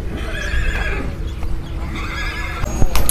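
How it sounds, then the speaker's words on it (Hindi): A horse at a horse market in Peshawar whinnies loudly and close by, a drawn-out neigh amid hoof clip-clops and busy outdoor market noise. "ये घोड़ा है भाई देख लें"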